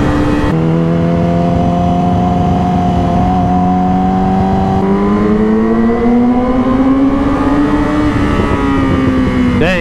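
A Yamaha R6 sport motorcycle engine revs loud and close, its pitch climbing and holding through several steady throttle pulls.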